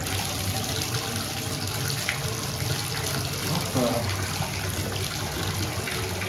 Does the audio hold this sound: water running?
yes